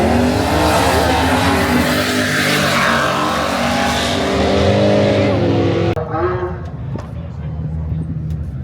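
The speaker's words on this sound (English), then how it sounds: "Still got a couple of cars running back and forth." Race cars roar past on a circuit, engines droning loud and close, then the sound drops away as they recede, leaving distant engine hum.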